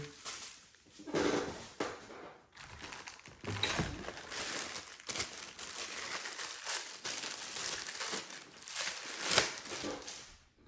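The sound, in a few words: packaging being unwrapped from a magnet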